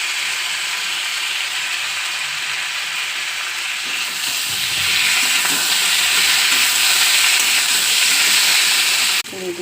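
Green chillies and plain packet yogurt fry and stir in a hot pan, a loud continuous sizzle and hiss that swells midway, with some stirring and faint talk over it.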